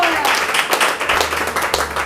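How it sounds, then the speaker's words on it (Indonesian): A church congregation claps and cheers in praise to God, making a dense, steady wash of close applause with voices mixed in. "Berikan sorak-sorai buat Tuhan."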